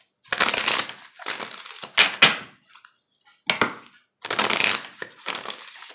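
Several bursts of cards being shuffled close up, quick riffling flutters separated by short pauses, no talking.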